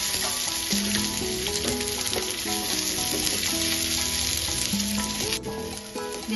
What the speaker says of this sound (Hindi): पहले कड़ी पत्ता डालेंगे इसके बाद हम प्याज डालेंगे